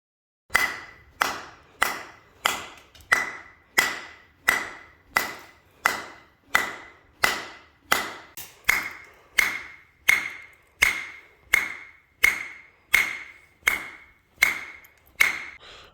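A 3D-printed reinforced gun suppressor is struck about two dozen times in steady succession, each hit a sharp, close knock with a brief ringing tone that decays quickly before the next.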